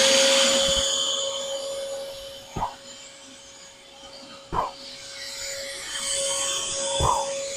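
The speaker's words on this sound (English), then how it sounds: "turn your vacuum cleaner on" A vacuum cleaner drones steadily with a high whine while sucking up bugs, punctuated by three dull knocks spaced a couple of seconds apart.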